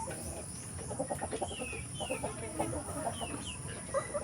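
Several chickens cluck and chatter at a steady, moderate level, with bursts of noisy background sound and no talking.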